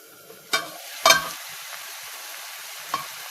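A spatula scrapes and stirs a Kerala-style snake gourd and dried prawn thoran in a pan: two sharp strokes near the start and one softer one later, over a faint, quiet sizzle.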